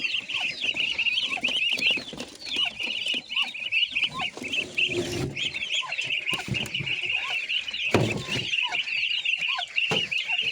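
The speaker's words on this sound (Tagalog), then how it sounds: "mga sisiw ng bibe." Duckling chicks on a backyard farm, a busy flock peeping and chirping steadily and loudly up close, with occasional brief knocks and rustles.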